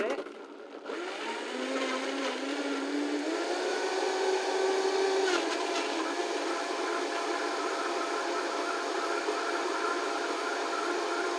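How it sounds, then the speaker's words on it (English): A Vitamix blender whirs steadily while blending a mango tomato salad dressing, starting with a rising motor pitch that settles into a loud, continuous roar lasting the full stretch. "now we're going to blend this in the Vitamix"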